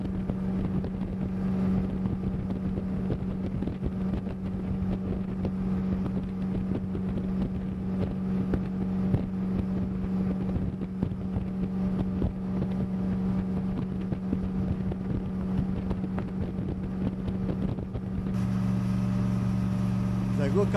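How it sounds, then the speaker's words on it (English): Motorboat with a big black inboard Chevy engine cruising smoothly across an empty lake, its steady low drone constant and close throughout with wind buffeting the microphone. "It's an inboard engine, a big Chevy, big black Chevy."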